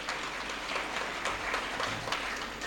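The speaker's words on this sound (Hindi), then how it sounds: "बजा लीजिए एक बार ताली, आप लोग थोड़ा थोड़ा बजा रहे हैं" Faint, scattered clapping from an audience at a speech by a cabinet minister, steady but subdued, heard at a distance with no voices over it.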